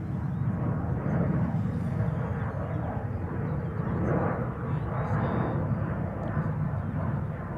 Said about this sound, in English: This KLM 737-800 is going to Warsaw.